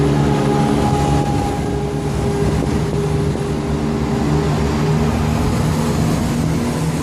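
A long passenger train rumbles steadily through a British railway station on the line to East Croydon, a loud continuous roar with faint tonal whine, close and alone without talk.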